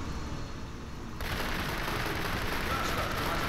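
Gunfire in Kane & Lynch: Dead Men, a dense, steady rattle of shots that kicks in abruptly partway through and keeps going loud to the end, with no talking over it.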